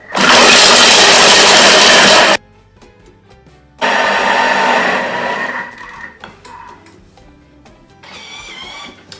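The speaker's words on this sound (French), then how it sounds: "Donc voilà pour le Thermomix." A Thermomix blends at speed 8 with a loud, dense roar in two bursts, the first about two seconds, then a quieter gap of rattling and knocks, then a second roar that winds down.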